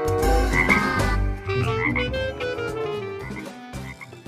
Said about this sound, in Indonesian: Wow, ini ada si frog teman-teman,